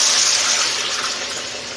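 Water poured into a hot skillet holding Worcestershire-seasoned breakfast steaks makes a loud, close hissing gush that fills the whole moment and fades slightly as it settles.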